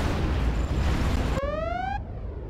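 Cruise missile explosions in the Generals strategy game, a loud broad roaring blast sustained for over a second, then cut off by a rising tonal electronic sweep.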